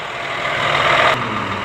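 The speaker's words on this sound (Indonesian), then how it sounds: "Nah, ini lagi panas mesin." A Scania K410 coach engine idles while warming up at a service yard, a loud, steady mechanical drone with a broad hum that holds constant throughout.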